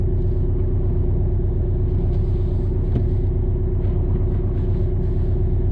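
2018 Porsche Cayman engine under light 25-30% throttle with an automatic gearbox, a steady low rumble that holds close and even throughout and gives no clear sign of gear changes.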